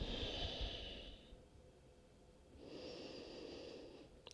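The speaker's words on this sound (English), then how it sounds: "One more breath." Two slow, deep breaths during a yoga session for back pain, a long airy exhale, a pause, then another soft breath, close and quiet with no talking.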